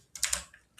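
A few quick keystrokes on a computer keyboard while writing code, close and fairly quiet, clustered taps then a brief pause and one more burst.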